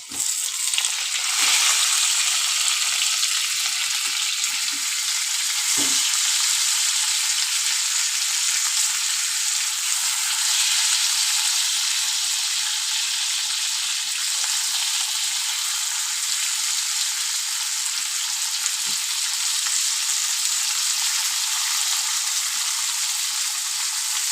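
Tomato and onion frying in a pan for a fish curry make a loud, continuous, bright sizzle that holds steady throughout, with only a couple of faint knocks beneath it.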